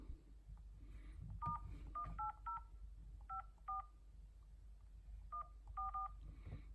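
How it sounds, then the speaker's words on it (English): Touch-tone dialing beeps from an iPhone keypad, a series of short dual-tone presses in quick clusters with brief pauses between groups, clear and fairly close over a low background hum. "If you add the same 180 5144 and you dial hash button and you press dial."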